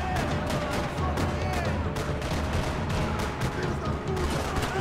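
Gunfire in Max Payne 3 rings out as a rapid run of sharp, loud shots, repeated in quick irregular bursts and nearly continuous, with a voice heard between them.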